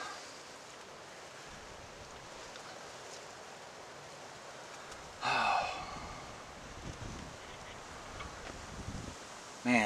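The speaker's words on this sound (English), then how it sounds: "Man, if it wasn't for this wind," Wind gusting through woods during a spring turkey hunt, a steady broadband rush with a stronger surge midway and a brief buffet at the end, no voices.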